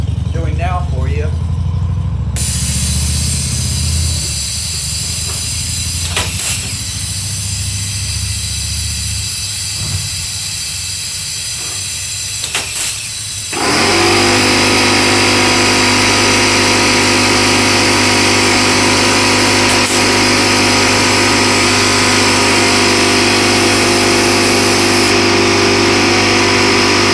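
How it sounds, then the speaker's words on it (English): A small Porter Cable air compressor starts midway and runs at a steady, loud, droning hum. Before it kicks on there is quieter workshop noise with a few sharp knocks. "my large compressor went out on me, so I have a small one over here. It's a little Porter cable"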